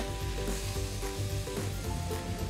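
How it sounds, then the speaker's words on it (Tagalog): Water poured into a hot, sizzling pan of sautéed ingredients while making sinigang, a loud, steady hiss and crackle heard up close. "Ngayon, mag-a-add na tayo ng water."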